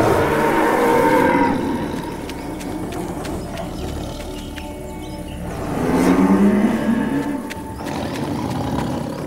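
A buffalo in an animated Jungle Book cartoon moos loudly in two long, drawn-out calls, the second rising near the middle of the clip, over a busy background of music and sound effects.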